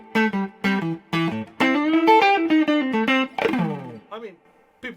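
Electric guitar played through an amplifier with dynamic picking, giving short choppy chords followed by sustained distorted notes and a bending slide, loud and close.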